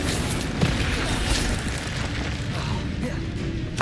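The Incendio fire spell blasts in the Hogwarts Legacy video game, a loud rumbling boom with a sustained roar that stays dense and heavy throughout.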